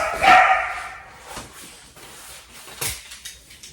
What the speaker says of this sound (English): You might hear our dog barking in the background.